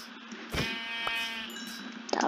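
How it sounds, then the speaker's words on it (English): Minecraft sheep bleating, a single drawn-out wavering baa close and clear, with game sound effects clicking before and after. "There's some sheep."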